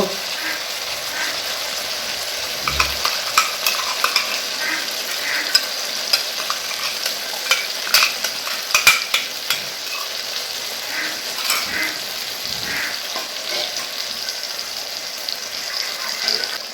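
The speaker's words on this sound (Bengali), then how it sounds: "এবার এর মধ্যে দিয়ে দেবো বেটে রাখা পোস্ত" Ground poppy seed paste stirred through ridge gourd and potatoes frying in a pan, with a steady sizzle beneath repeated scraping and clicking of a spatula against the metal.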